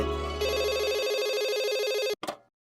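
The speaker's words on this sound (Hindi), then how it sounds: "जल्दी से मिस्टर भिड़े को फोन दो" A telephone rings loudly and steadily for about two seconds, a sustained electronic trill that cuts off abruptly, followed by a brief second burst, with no voices over it.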